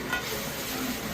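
Mutton kosha cooking in a wok, with a brief steady sizzle and faint stirring texture and no talk.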